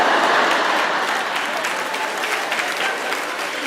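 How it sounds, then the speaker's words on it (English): An audience at a Christian stand-up comedy show breaks into loud, dense clapping that fades slightly as it goes on. "That's a little smart aleck clap right there."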